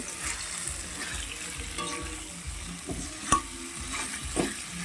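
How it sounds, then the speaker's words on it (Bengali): Boiled potatoes fry in a cooked-down masala of tomato, cashew and raisin paste, giving a low continuous sizzle broken by occasional stirring scrapes and soft knocks of the spoon. "এবারে যে আমি সেদ্ধ করে রেখেছি আলুগুলো সেগুলো দিয়ে খুব সুন্দর করে ভেজে নেব"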